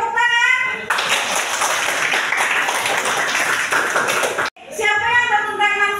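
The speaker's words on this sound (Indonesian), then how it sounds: "Oke, tepuk tangan." Classroom clapping from a group of students bursts in after a brief spoken line, a dense spread of hand claps running steadily for several seconds before stopping abruptly, with talk resuming at the end.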